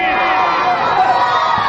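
Religious congregation shouting a response to a Nara-e-Takbeer call, many voices blended into one loud, sustained crowd roar.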